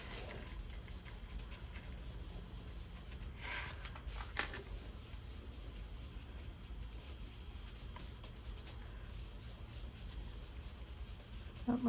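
A home printer runs indoors alongside a portable air conditioner, giving a steady low mechanical whir and rubbing noise with a few brief scraping bursts, heard close and continuous throughout without talk.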